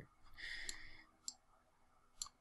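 Quiet computer mouse clicks while working in Fusion 360 CAD software. Two or three crisp single clicks are spaced apart, with a faint whoosh before them.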